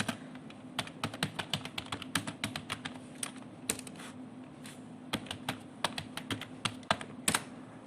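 Terminal command typed on a computer keyboard running Ubuntu, a rapid, close series of crisp key clicks in uneven bursts with brief pauses between.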